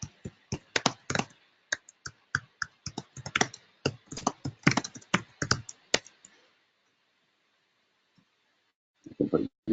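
Rapid typing on a computer keyboard, a run of crisp close key taps for about six seconds, then quiet, with a few more taps at the end.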